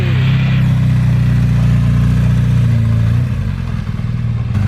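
A motorcycle rumbles loud and close at a biker breakfast meet, its engine idling heavily before the note drops as it settles.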